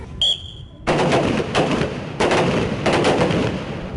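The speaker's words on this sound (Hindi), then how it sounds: "Total of 9 rounds. That is what they will be firing now." Rifles crack in sharp, loud reports during military shooting practice, several shots in quick succession with echoing tails. A brief high electronic beep sounds first.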